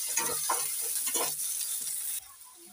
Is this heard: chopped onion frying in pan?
yes